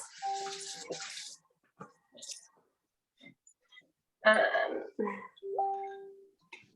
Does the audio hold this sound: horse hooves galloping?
no